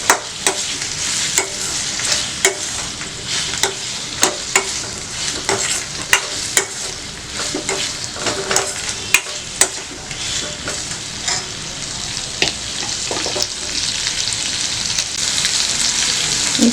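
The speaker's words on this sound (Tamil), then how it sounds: "இதில் கருணக்கிழங்கு ஆட் பண்ணிக்கலாம். இது ஒரு 2 மினிட்ஸ் வதங்கட்டும்." Pieces of yam sauté in a pan for yam chutney. A constant close sizzle runs throughout, broken by frequent sharp clicks from stirring. No one speaks.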